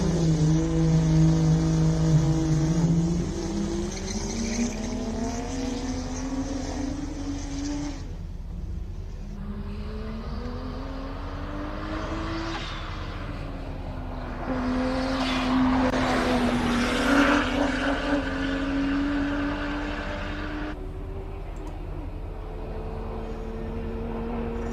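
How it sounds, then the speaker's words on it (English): A BMW 335 twin-turbo race car at a hillclimb climbs uphill, its engine rising through the gears with several shifts, sustained loud revving near and then carrying on as it pulls away. "It accelerates quite well coming up that hill. That's a 335. That's a twin turbo."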